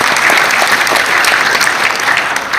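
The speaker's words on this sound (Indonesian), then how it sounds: "Tepuk tangan dulu buat sekarang dulu." A crowd claps loudly at a provincial government technical workshop in NTT, a full and steady round of applause that holds for about two and a half seconds and then eases slightly at the end.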